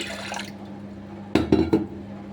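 Water poured into a pressure cooker while making sambar for idli, a short splashing fill of about half a second, with low kitchen hum beneath it.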